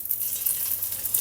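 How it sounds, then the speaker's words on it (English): Beef pieces searing in a smoking hot pan at about 220 °C for a beef stew, a brief close hiss of sizzling fat and spitting oil, no talk. "You want to, put your beef in."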